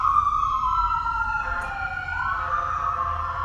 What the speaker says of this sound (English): a ambulance is going to go by here